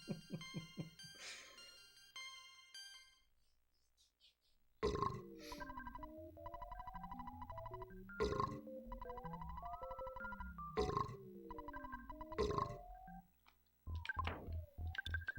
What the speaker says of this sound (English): I'm glad the belching doesn't throw you off.